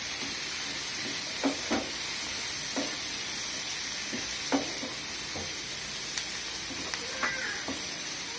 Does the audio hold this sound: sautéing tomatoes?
yes